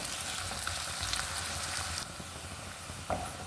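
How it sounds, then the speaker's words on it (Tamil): Onions fry in oil until brown for chicken biryani, making a dense, close sizzle that drops a little in level partway through, with one short stir near the end and no talking. "வெங்காயம் நல்லா ப்ரௌன் கலராக வர்ற வரையும் வேகட்டும்"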